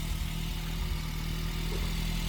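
A VW Golf MK2 1.6 diesel engine runs steadily just after its first start following long storage, a continuous low idling drone with no talk.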